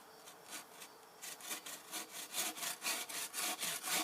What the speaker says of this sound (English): This is going to be the first plank for the decking, which I'm going to cut it right here.